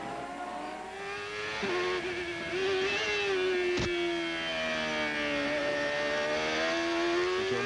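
CART race car engine under throttle through a turn at Road America in 1996, a high, steady onboard whine rising and falling slightly as the driver works the throttle, with a brief sharp click partway through.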